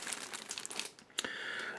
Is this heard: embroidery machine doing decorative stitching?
no